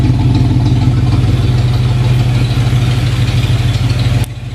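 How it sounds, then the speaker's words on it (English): Rebuilt fuel-injected 283 V8 in a 1959 Corvette idles after a dead cold start, a loud, steady, close rumble through the stock exhaust with an even low pulse that drops off abruptly near the end. "Very mellow stock exhaust sound."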